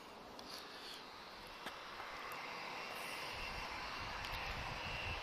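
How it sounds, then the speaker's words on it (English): A TAP Portugal A320 airliner arriving at Lisbon Airport: a distant, faint, steady jet roar that swells slowly over five seconds, with light outdoor hiss and no talk. "A seguir temos E320 a chegar da TAP Portugal, Star Alliance."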